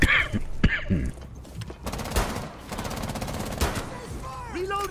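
Bursts of gunfire in a Rainbow Six Siege style tactical shooter match, rapid automatic volleys and single shots close by, with players talking over the shooting.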